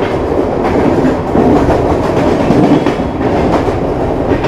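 Two passenger trains, the Raigarh Jan Shatabdi Express and a Raipur MEMU, running side by side at high speed; a loud, steady rumble of wheels with rhythmic clickety-clack over rail joints, heard close up and with no talking.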